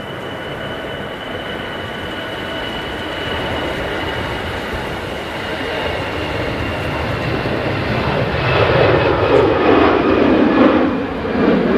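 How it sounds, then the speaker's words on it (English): EasyJet Airbus A320 taking off from Manchester Airport, bound for Jersey: a broad, steady jet engine roar that swells louder toward the end as the takeoff power builds, with no voices. "So this is an EasyJet A320 on the way to Jersey."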